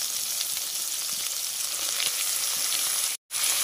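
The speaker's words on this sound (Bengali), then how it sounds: "এবার লইটে মাছগুলো পিস করে রেখেছিলাম সেগুলো দিয়ে দেব" Pieces of Bombay duck fish go into spice paste frying in oil, setting off a dense, bright, steady sizzle that fills the pan closely, cut by a brief moment of silence near the end.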